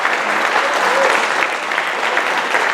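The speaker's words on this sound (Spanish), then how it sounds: "Felipe Valdés, un fuerte aplauso nuevamente para él." Steady applause from an audience at a Chilean book launch event, dense and continuous clapping filling the room throughout.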